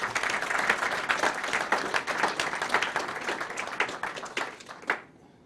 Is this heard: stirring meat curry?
no